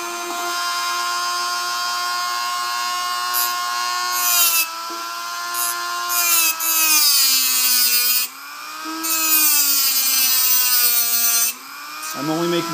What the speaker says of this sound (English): my Dremel, I'm going to walk it around this tape line